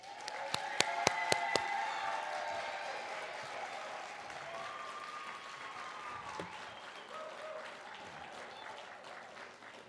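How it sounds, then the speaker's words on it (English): Audience applause for graduates at a graduation ceremony on a Fort Lauderdale campus, sustained clapping and some cheering from a large crowd, opening with a few sharp near claps and then continuing evenly for about ten seconds. "So let's honor our graduates with a big round of applause."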